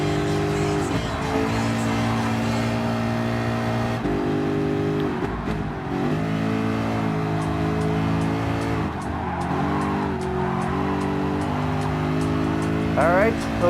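Ford GT LM Spec II race car in Gran Turismo Sport, engine droning and shifting pitch with tire squeal, under continuous commentary.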